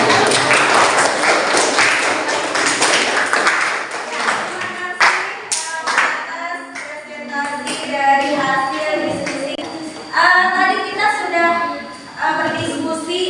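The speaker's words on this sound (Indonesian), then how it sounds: "Ya, tepuk tangan." Classroom applause during a teaching session on procedure texts, clapping from students mixed with children's voices and a speaking voice, uneven and fairly close.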